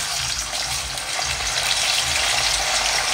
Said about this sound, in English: so I'll start frying the channa